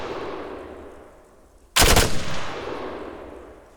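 A single loud gunshot from a US weapon in ArmA 3 with the RHS mod cracks out over quiet game ambience, then its echo fades away.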